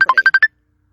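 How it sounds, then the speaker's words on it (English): An incoming phone call rings as six quick, evenly spaced electronic beeps in under half a second, loud and clean, then silence. "I was getting a couple phone calls"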